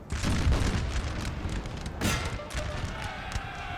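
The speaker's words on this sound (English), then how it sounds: "Cannon shots just come in and rip up the line" Dense rumbling battle noise with heavy booms of cannon fire, one big blast standing out midway, constant and loud throughout with no clear talk.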